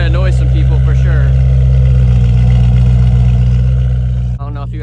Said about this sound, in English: That's like a semi-cold start, and it's pretty loud.